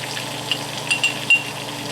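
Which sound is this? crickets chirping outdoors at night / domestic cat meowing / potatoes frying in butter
potatoes frying in butter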